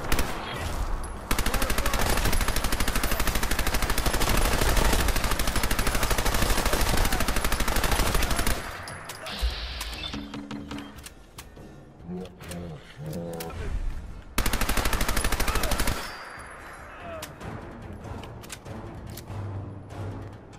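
Heavy sustained gunfire from Fallout 4 combat, loud dense bursts lasting several seconds, dropping away to quieter game sounds before a second shorter burst erupts and fades.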